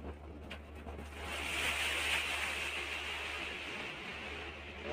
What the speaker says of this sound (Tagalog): Sumasalok na yung dagat.